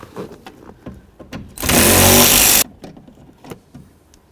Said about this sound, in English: start removing our two mounting bolts that hold the window to the window regulator